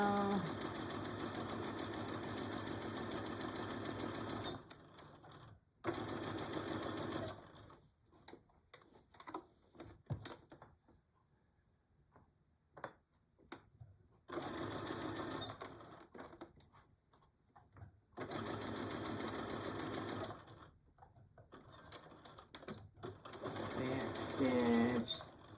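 Sewing machine stitching a Betty Boop pillow cover, loud steady runs of fast whirring several seconds long broken by quiet pauses, with a voice speaking briefly in the gaps.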